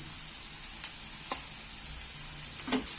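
Egg mixture seasoned with salt sizzles lightly in a pan, a steady faint frying hiss broken by a few soft scrapes and taps of a spoon stirring it, with no voices.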